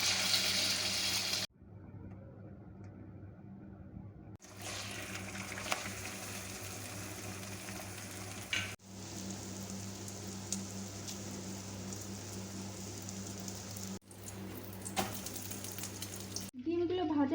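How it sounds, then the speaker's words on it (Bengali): Eggs frying in oil in a wok for a masala omelette curry, a steady crackling sizzle broken by several abrupt cuts and quieter stretches, with faint background noise. "তেলটি দিয়ে এখন ডিমগুলোকে ভেজে নেব।"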